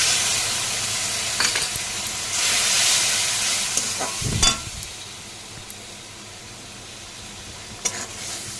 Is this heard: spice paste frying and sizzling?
yes